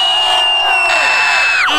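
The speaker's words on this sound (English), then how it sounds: "Now the whole park, wherever you are, scream after three." Large park crowd at an outdoor Pride event screaming together on cue, a loud sustained roar of shrieks and cheers that holds steady and then cuts off abruptly.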